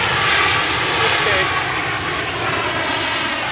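A passenger aircraft just landed at Mumbai Airport roars past, a loud, sustained broadband engine rush filling the whole clip with no talk.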